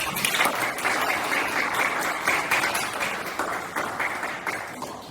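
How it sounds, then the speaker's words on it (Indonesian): Applause from students in a classroom during a guidance lesson, a steady dense patter of hands clapping together for about five seconds, fairly loud and close, with little talk over it. "kita berikan tepuk tangan dulu"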